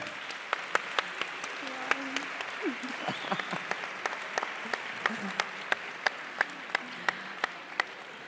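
Applause at an FP Day vocational training festival, soft crowd clapping under murmured voices, with a few sharp individual claps standing out in a rhythmic pattern near the microphone.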